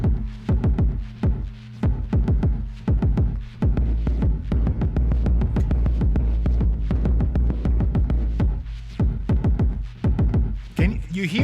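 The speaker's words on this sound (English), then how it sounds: "So this is our first kick." Kick drum patterned on a KORG SQ-64 sequencer in a modular synth setup, thumping in a steady, repeating rhythm of deep low hits under sustained tones, loud and close with no talking.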